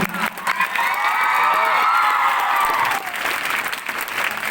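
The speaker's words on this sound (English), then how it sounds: "A big round of applause for Sona ma'am and Gyana." A school audience claps steadily at an event, a dense, loud roll of applause with a few shouts mixed in. It swells, holds, then thins toward the end.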